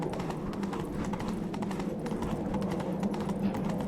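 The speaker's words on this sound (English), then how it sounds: "Vale, sí, con el caballo se avanza bastante rápido." Horse hooves galloping at a steady, rapid clip-clop pace in The Witcher 3, loud and continuous with no talk over them.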